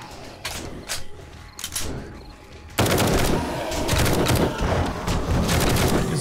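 Rapid bursts of gunfire from a modified gun in the zombie survival game 7 Days to Die, scattered shots at first, then a dense, loud, sustained volley.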